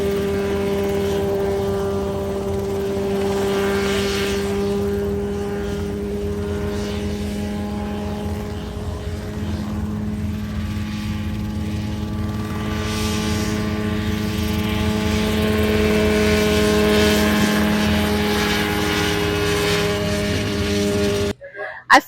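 Helicopter flown by 16-year-old pilot Alina at the Oshkosh airshow, a steady, loud rotor and engine drone with strong tonal hum holding for about twenty seconds, swelling slightly near the end before cutting off.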